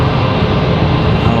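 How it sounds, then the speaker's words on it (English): A JetBlue jet airliner taxis at Raleigh-Durham International Airport, giving off a steady, dense engine roar that holds level for the whole short moment without voices. "We've got a special JetBlue coming around the corner here."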